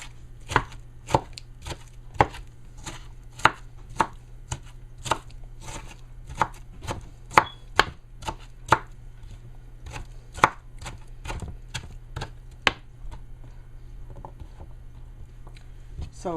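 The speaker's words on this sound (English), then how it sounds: "So I put a little tomato here, which I'm going to cut up nicely." A knife chops a tomato on a cutting board, about thirty crisp, evenly spaced taps over a steady low hum, close by and with no talking.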